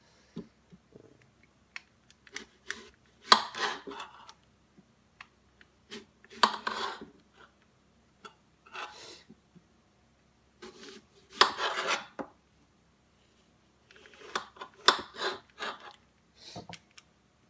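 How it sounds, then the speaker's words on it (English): A knife cutting a normal-sized apple, heard as several separate bursts of crisp rasping and crunching with quiet pauses between them, close up and with no speech. "At first use, I don't really have any difficulty cutting the apple using one of my original basic grips."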